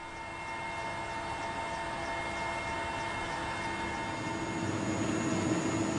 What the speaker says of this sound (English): We flew there in a warlord's helicopter.